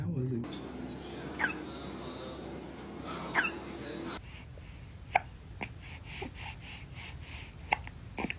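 A baby hiccups in short, sharp bursts, several spaced a second or two apart over soft background noise, with brief speech nearby.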